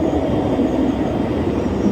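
A train at a railway station platform gives off a steady, loud low rumble that holds evenly throughout, with no voices.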